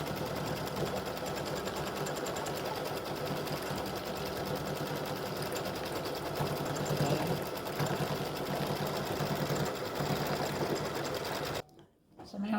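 An embroidery machine stitches out an appliqué St Patrick's Day gnome design, its needle running in a fast, even mechanical chatter up close, pausing briefly near the end before resuming.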